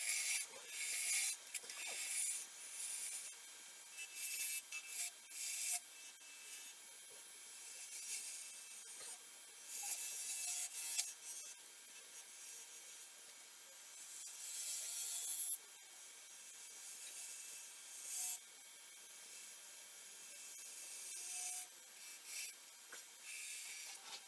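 Steady rasping and rubbing as a file rounds and trims down a carved snowman head, the strokes continuing in long uneven bursts, fairly close and quiet with no voices.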